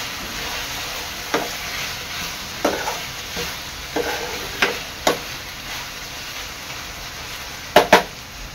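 Prawn chilli with cornflour paste being stirred in a pan, a soft simmering hiss broken by a handful of distinct spatula knocks and scrapes against the metal, close and fairly loud.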